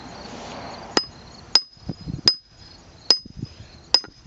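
A splitting maul lands about six sharp, ringing blows on a wood-splitting job, unevenly spaced, each a crisp metallic crack with a brief ring and quiet gaps between.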